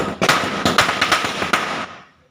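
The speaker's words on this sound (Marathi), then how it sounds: "फटाक्यांचा जल्लोष सकाळपासूनच सुरू आहे" Firecrackers burst in a rapid crackling string during a Ganesh Chaturthi celebration at home, a loud close volley of sharp pops that fades out after about two seconds.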